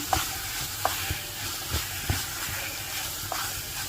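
Fresh shiitake mushrooms stir-fry in a dry pan with no oil, giving a soft continuous sizzle punctuated by a few sharp scrapes and clanks of the spatula every second or so.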